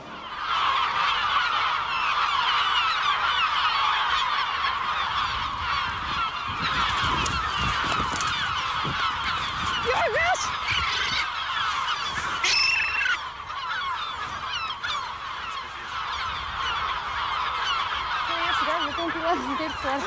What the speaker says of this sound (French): Elle s'occupe de la colonie la plus nombreuse, celle des goélands.